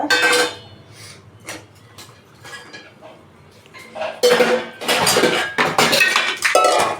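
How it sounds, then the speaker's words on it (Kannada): Metal cooking pot set down and handled on a kitchen surface while making tomato rasam, a few sharp clanks and clinks at the start, then quieter, followed by a louder cluster of metallic knocks and rattles toward the end. "ಒಂದು ಪಾತ್ರೆ ಇಟ್ಕೊಂಡು ನೋಡಿ, ಒಂದು ಪಾತ್ರೆ ಇಟ್ಕೊಳ್ಳೋಣ"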